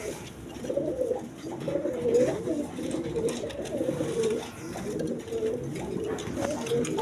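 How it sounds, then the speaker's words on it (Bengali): Healthy satin pigeons at a market stall coo steadily in low, throaty rolling phrases, several birds overlapping close by against a faint background hum, with no talking. "ছটপড়া কবুতর একদম সুস্থ সবল কবুতর"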